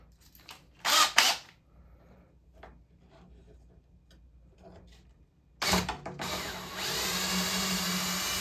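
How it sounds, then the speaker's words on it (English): Power drill boring holes in a Bally Playboy pinball playfield during restoration: a short whir near the start, then a long, loud, steady drilling run from about 5.6 seconds to the end, with faint handling noises between. "Probably gonna have to drill holes."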